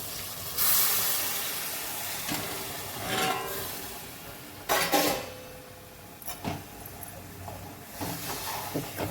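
Water is poured into a hot pan of chicken curry and sends up loud bursts of hissing steam that rise and fade several times, close by.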